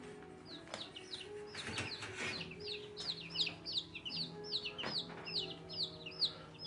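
Chickens behind a fence cluck and chirp in a steady stream of short calls, fairly close and clear, with light background noise and occasional knocks.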